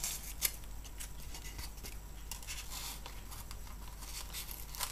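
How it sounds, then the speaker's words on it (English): Scissors cut the corners off modular tabletop terrain pieces, giving repeated crisp snips at an irregular pace, close and fairly quiet over a low steady background hum. "Then you're going to take the corners and you're going to do the same thing. You're just going to cut them off"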